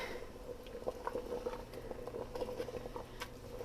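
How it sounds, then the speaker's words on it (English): A King Ranch casserole simmers in a pot, with faint bubbling and soft irregular pops and patters heard close but quiet, no voices over it. "now I'm going to turn her down and let her simmer"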